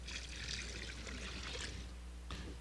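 Apple cider pouring in a steady, continuous stream into a brine of brown sugar, kosher salt, peppercorns, juniper berries and clove, a close liquid splash that ends with a brief final drip.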